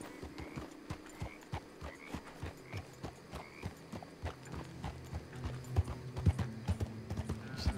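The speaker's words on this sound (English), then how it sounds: "Here they have the horses." Steady horse hooves clip-clop at an even walking pace in the video game Red Dead Redemption 2, crisp and close, with a few extra hoof knocks and a brief whinny-like sound near the end.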